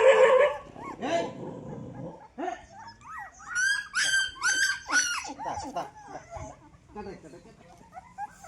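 Puppies bark, yelp and whimper in a lively, overlapping cluster, with a few short high cries rising above steady restless noise and some voices talking nearby.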